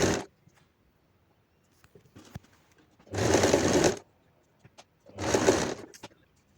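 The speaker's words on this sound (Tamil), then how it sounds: "திருப்பியும் அதில் வச்சு அப்படியே தைச்சிக்கிறேன்." A sewing machine stitching a hem strip on a ruffled frock for a young girl, in two separate bursts of rapid mechanical stitching about a second long, with small clicks and fabric handling between them.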